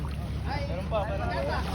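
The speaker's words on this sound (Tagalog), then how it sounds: "Dami na dumating na bangka." Low engine-like rumble over water with wind buffeting the microphone as fishing boats arrive nearby; faint voices mingle in the background.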